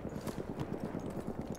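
Horse hooves clip-clopping in the video game Battlefield 1, a quick, even rhythm of muted hoofbeats repeating steadily at moderate distance with no talk over them.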